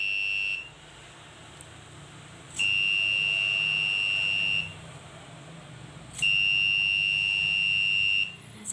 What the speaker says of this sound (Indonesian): maka buzzer dan LED akan menyala.